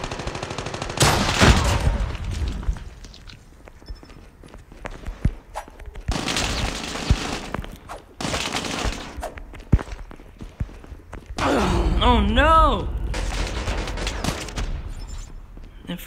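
Weapon fire in the Call of Duty Mobile video game, with repeated gunfire bursts and sharp shots spread across the stretch, a dense volley near the middle, and game footsteps and effects between them.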